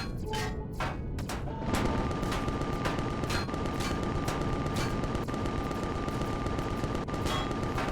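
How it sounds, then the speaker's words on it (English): Automated sentry guns in the space survival game Empyrion Galactic Survival keep up dense, continuous gunfire. Rapid cracking shots and heavy booms pile into a loud, unbroken roar, with a steady electronic tone running underneath. "this particular location right here is in range of those sentry guns"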